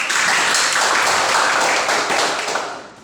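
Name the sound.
classroom applause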